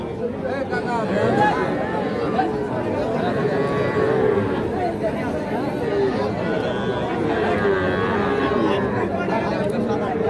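Bull calves mooing at a busy cattle market, several close low moos rising over a steady crowd chatter and people talking throughout.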